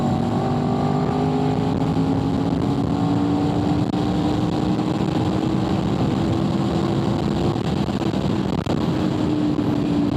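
A Honda VFR800fi motorcycle drones steadily at cruising speed, its loud exhaust holding an even tone that rises slowly in pitch, close and continuous under heavy wind rush and with no talking.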